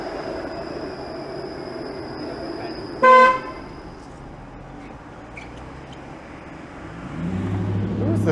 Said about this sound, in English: Who's the streetcar honking at?